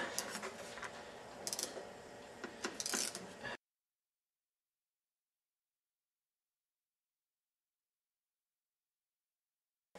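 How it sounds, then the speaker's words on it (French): Quick ratcheting clicks from a ratchet wrench with a 27 mm socket and extension unscrewing the oil filter on a Peugeot 207 1.6 HDi, close and brisk for a few seconds before cutting to silence. "une clé à cliquer avec une douille de 27 et une rallonge"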